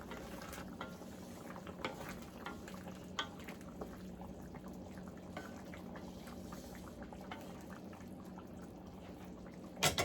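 A spoon stirs pork menudo stew in a pot, giving soft scraping and clinking taps in an irregular rhythm over a low simmering bubble. The sound is quiet and close, with a sharper knock at the very end.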